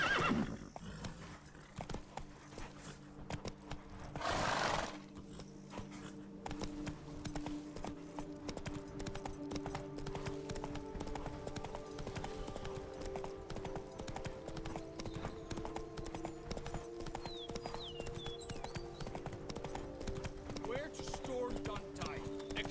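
Roach, Geralt's horse in The Witcher 3: Wild Hunt, trots with steady rhythmic hoofbeats throughout, a loud whinny early on and a low droning background.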